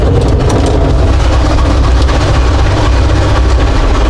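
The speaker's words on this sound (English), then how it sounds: "So turn on the locomotive." A heritage diesel locomotive is started and runs, giving a loud, steady, rumbling engine drone with a constant low throb and no breaks.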